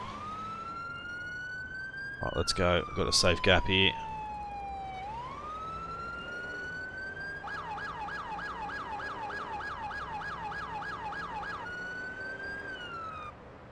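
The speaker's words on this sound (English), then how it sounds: "we'll turn our siren off so they don't hear us coming" Police car siren in the game Police Simulator: Patrol Officers, a long rising and falling wail broken by sharp yelp and horn blasts, then a rapid warble, with someone talking over it.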